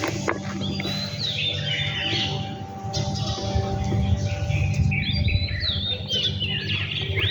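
House sparrows chirp in repeated bright bursts at a temple, fairly close, over a steady low hum and a continuous background murmur.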